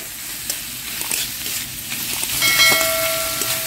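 Bhetki fish mixture with salt and turmeric is fried and stirred in a pan, a dense sizzle with repeated spatula scrapes and knocks that swell slightly toward the end, and a faint tonal whine overhead.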